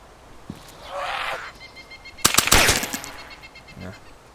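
A gun in the DayZ video game fires a quick burst of loud, closely spaced shots, preceded by softer handling sounds.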